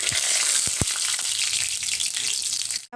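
Dried red chillies and panch phoron sizzle steadily in hot oil for an Assamese moong dal, with a few soft knocks of stirring early on under the continuous crackle.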